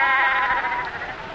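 Sheep bleating as they run toward a shepherd, a sustained wavering bleat, fairly clear with no voices over it.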